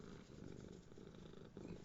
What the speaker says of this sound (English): probably hear that purr